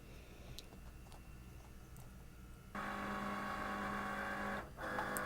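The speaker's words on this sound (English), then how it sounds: "I'm going to go ahead and load it into my machine now." A cutting machine loads a sticker mat during print-and-cut: quiet ticking gives way to a steady mechanical motor whir with a humming tone, briefly dipping before resuming, close and without voices.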